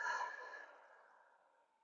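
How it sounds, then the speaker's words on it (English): One deep exhale after breathing in through the nose during a foundational yoga class, a soft, airy breath out through the mouth that fades slowly over about two seconds, heard close and alone. "Breathing in through the nose and out through the mouth."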